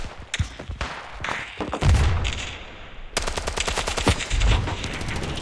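Bursts of rapid video game gunfire crack out close and loud, with repeated fast shots and short pauses between volleys.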